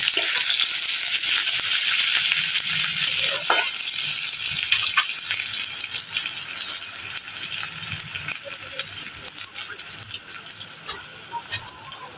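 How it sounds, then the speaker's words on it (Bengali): Chopped onions frying to a deep red in a pan for a rohu fish curry, a loud, steady sizzle with scraping stirs throughout, easing slightly toward the end, no voices. "ভালো করে পেঁয়াজগুলো লাল লাল করে ভেজে নেবো।"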